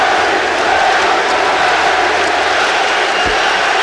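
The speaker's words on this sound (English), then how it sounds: "So an emotional greeting from this capacity crowd for the Boston Celtics." A capacity crowd at Boston Garden roars for the Celtics before a deciding 1991 playoff game against the Pacers, a loud, dense, sustained wall of cheering that never lets up.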